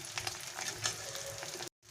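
Fish roe fritters fry in hot oil close up, a dense, steady crackling sizzle that cuts out abruptly near the end.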